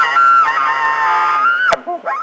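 An elk bugle imitated on a small diaphragm reed call: a loud, sustained high whistling squeal that ends in a sharp break, followed by a few short grunting chuckles.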